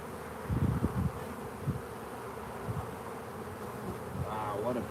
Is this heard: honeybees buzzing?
yes